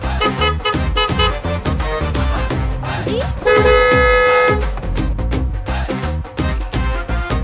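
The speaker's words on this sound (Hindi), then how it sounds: "हॉर्न मत बजाओ" A car horn sounds in a sustained, steady honk of about a second, riding over loud, beat-driven music that plays throughout.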